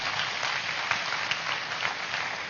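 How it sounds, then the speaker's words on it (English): An audience at a youth festival at Pyramid Valley International claps together in a dense, steady round of applause, loud and sustained from start to finish with no talk over it. "A big clap to each one of you."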